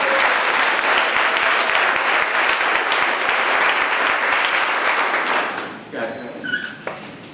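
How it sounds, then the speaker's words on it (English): Loud, dense applause from an audience at a police summer crime plan briefing honoring communications staff, continuous clapping that fades out near the end, followed by brief voices and room sounds. "So let's give all of them a round of applause."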